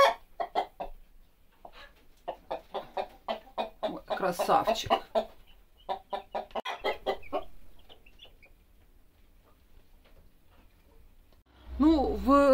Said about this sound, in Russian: Наш петушочек сидит.